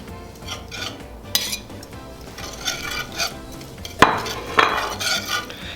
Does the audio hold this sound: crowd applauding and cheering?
no